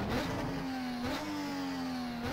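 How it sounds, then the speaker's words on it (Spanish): A car engine in a touring-car racing simulator hums at a steady mid pitch with slight swells, as if held at near-constant revs. It is quiet and heard alone. "a que escuchen un poco ustedes el motor."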